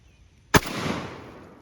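A single loud shotgun blast goes off in a game of shotgun croquet, a sharp close crack followed by a long rolling boom and echo that fades out over a second, after a quiet moment.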